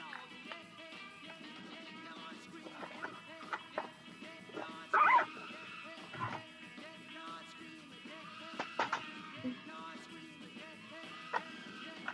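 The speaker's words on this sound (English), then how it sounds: "What are you doing, little puppy dog?" A small puppy gives soft whimpers and a few short yips at a low level, close by, scattered over a quiet room background.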